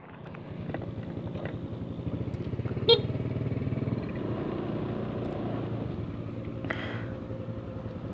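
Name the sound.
Honda Scoopy scooter riding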